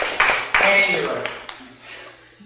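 An audience gives short bursts of applause to vote during a game, with clapping mixed under a loud voice speaking nearby.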